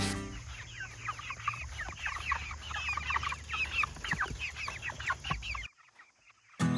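Chickens on a homestead clucking and rustling as they scratch through a compost pile, a steady busy chorus of close, overlapping clucks and scratching that drops away abruptly near the end.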